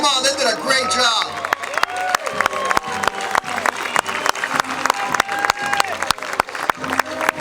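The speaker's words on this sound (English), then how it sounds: "Give them a big, warm, welcome applause." Spectators at a Veterans Day parade in San Jose applaud and cheer, with sharp scattered claps and crowd murmur over a steady outdoor din, a voice carrying on a loudspeaker near the start.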